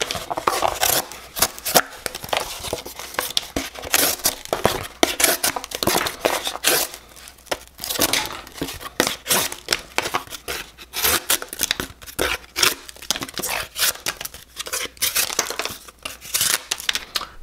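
A Kizer Gavel knife saws repeatedly through single wall diaper box cardboard, producing close, rhythmic tearing and scraping crunches that keep going with brief pauses.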